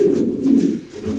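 Red long-faced Spanish pigeons cooing: a brief, low, throaty coo close by, steady and unbroken for about a second.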